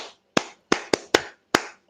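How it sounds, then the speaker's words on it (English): Six sharp hand claps, loud and close, come in an uneven rhythm with short silent gaps between them and nothing else heard. "Yeah, you really need a clap for that."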